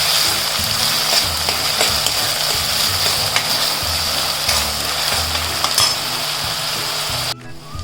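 Finely chopped onions and chilies sautéing in a pan until reddish, giving a loud, continuous sizzle with faint stirring scrapes and no voices.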